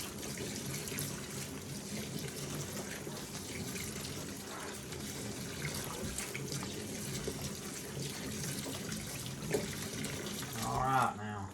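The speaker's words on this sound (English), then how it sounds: "Rinse them real good." Tap water runs steadily and softly into a sink while beans are rinsed for pickling, a continuous gentle rush with a brief clatter near the end.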